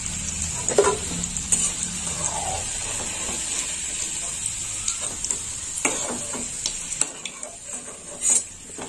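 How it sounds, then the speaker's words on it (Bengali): Steady oil sizzle of potatoes frying in a pan until reddish-brown, with occasional scrapes and clinks of a utensil stirring against the metal. "আলুটা একটু লাল লাল করে ভেজে নিলাম।"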